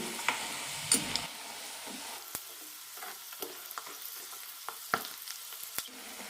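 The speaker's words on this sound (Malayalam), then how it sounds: "കറിവേപ്പില ഇട്ട ശേഷം ലോ ഫ്ലെയിമിൽ വറുത്തെടുത്താൽ മതി" Peanuts frying on a low flame with curry leaves and unpeeled garlic for masala peanuts give a steady soft sizzle, broken by scattered sharp clicks and scraping stirs of a spoon in the pan, with no voices.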